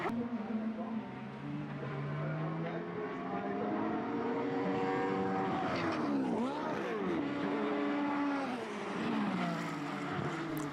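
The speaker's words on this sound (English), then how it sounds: "The Lola sounds okay here." A Lola formula race car engine screams past on a track during a Formula BOSS race in Ireland, a rising and falling high-revving whine with a Doppler sweep, while a commentator talks over it.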